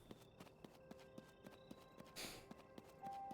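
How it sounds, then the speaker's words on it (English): Heavy footstep thuds from a video game character walking in a steady, even rhythm, fairly close, with a brief burst of broadband noise partway through and no talking. "That's what I like to hear. Just the thuds of the footsteps."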